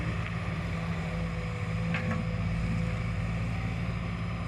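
A Sumitomo SH210F6 excavator with a four-cylinder, four-stroke, 16-valve turbo-injected engine idles near 1,800 rpm at a pond-digging site, a steady droning hum with a constant low tone and no talk.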